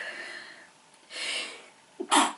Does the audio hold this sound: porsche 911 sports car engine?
no